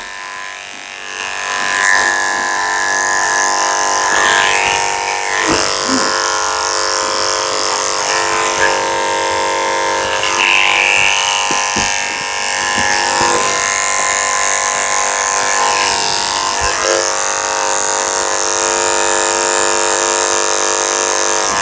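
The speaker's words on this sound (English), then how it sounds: "Shaving the back all the way down to the bottom of her ear." Electric clippers fitted with a 10 blade shave a Scottish terrier's coat during a pet-cut grooming, giving a steady, close buzz that runs continuously with small shifts in pitch as the blade moves over the fur.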